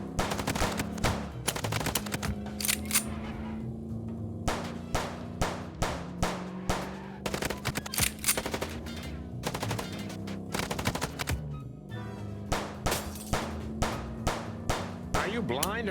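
Rapid gunfire in the video game Chicken Police, dense volleys of loud shots and bursts running continuously for the whole stretch, with brief voices underneath.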